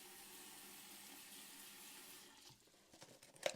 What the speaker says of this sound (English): so I have this little pot here and we adding some water to it